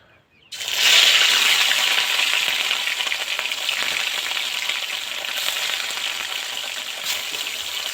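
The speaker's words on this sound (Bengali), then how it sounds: "এবার আমি তেলের মধ্যে মাছ দিয়ে দেব" Rohu fish pieces hit hot oil with a sudden loud sizzle after a brief quiet start, then a steady, close, crackling fry continues throughout without any talking.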